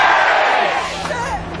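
At a Hempfest rally, a crowd shouts back a single letter for a hemp cheer, a loud massed yell that swells then tapers off over a brief moment.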